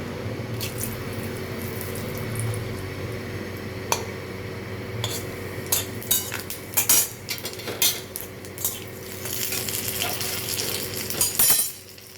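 A steady sizzle of bay leaves, dried red chillies and panch phoron frying in mustard oil in a kadai, with sharp clinks and scrapes of a utensil against metal growing busier toward the end.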